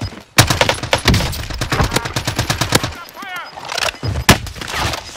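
Rapid automatic gunfire in the battle royale shooter Warzone, dense close bursts of sharp shots for several seconds, a brief pause, then more isolated shots, with voices talking in between.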